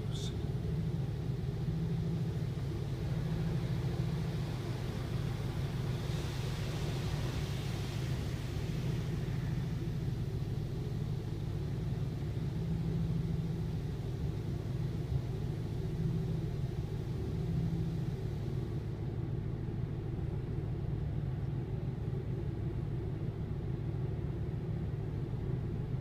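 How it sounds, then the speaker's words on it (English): A 2008 Ford Crown Victoria sits in a touchless automatic car wash: constant low machinery rumble from inside the car, with a louder wash of spraying hiss partway through, all fairly faint. "I don't remember the car wash being this long before"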